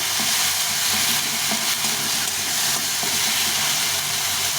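Ginger and green chili paste sautéing in hot oil, a loud, dense, continuous sizzle with stirring scrapes throughout and no one speaking.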